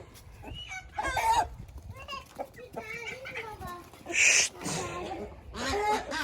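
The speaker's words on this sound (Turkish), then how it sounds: "Oo, bunlar kavgaya başlamış." Ornamental roosters scuffle in a poultry pen, crowing and clucking in a lively, uneven mix at close range while a person talks quietly over them.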